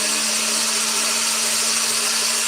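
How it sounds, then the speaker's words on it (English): A blender runs steadily on its mince and blend setting, a continuous loud motor whine with a constant hum, unbroken and alone throughout. "Rolling a d8 to see the blender setting. A 4. That is mince and blend."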